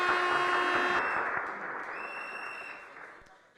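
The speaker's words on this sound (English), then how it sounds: "Give yourselves a round of applause" Audience applause at a political speech, a dense wash of clapping that holds steady, then gradually thins and fades away with a few scattered claps at the end.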